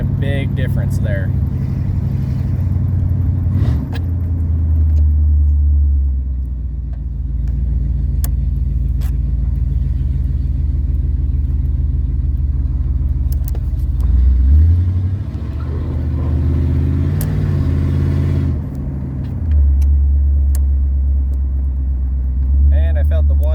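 A 1977 Pontiac Trans Am V8 rumbles loud and close, its low engine note climbing and dropping as it pulls through several gear changes, while talk runs over it throughout.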